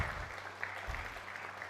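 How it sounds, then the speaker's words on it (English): An audience claps at a talk with an academic mentor and professor, a fairly soft, steady patter of many hands continuing throughout with faint room hum beneath. "Join us to clap for me."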